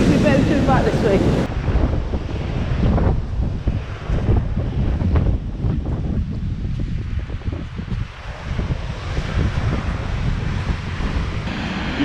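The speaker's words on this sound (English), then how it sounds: "You can hear the roar of the waves here as they crash against these rocks" Loud, continuous roar of storm-driven waves crashing against rocks at Dead Man's Bay on the Jurassic Coast, with heavy wind buffeting the microphone throughout and no clear pauses.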